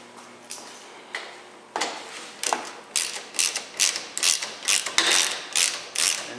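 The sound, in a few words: ratchet tightening cargo rack bracket bolts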